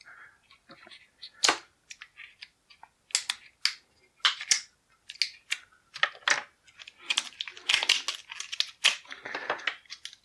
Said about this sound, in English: I'm just going to cut this thing off.